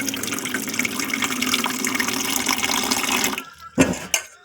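Cold water poured into a bowl while mixing a homemade hair paste, a steady splashing gush for about three seconds, followed by a couple of short knocks and splashes.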